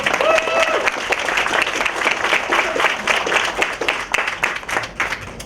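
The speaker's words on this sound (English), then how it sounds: "Round of applause for Ben." An audience applauds steadily at a public talk on resisting the war on refugees and migrants, dense clapping sustained throughout at close range.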